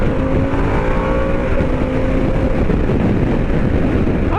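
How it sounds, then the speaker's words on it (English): A 2021 Harley-Davidson Pan America motorcycle held in 4th gear in sport mode, engine droning steadily and loudly at sustained revs, with wind rushing past throughout. "So I'm going to stay in 4th gear, kind of push this motorcycle a little bit."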